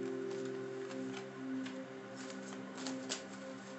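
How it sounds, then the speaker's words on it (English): Tarot and oracle cards of a Magic of Unicorns deck being shuffled and pulled by hand, a run of soft papery flicks and riffles in uneven bursts, close and quiet, with no talking. "I'm pulling these cards."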